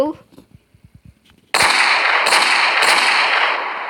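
Desert Eagle pistol fire in a modded shooter game, a few short clicks followed by a loud sustained blast of gunfire with two sharper reports inside it, close and dominant.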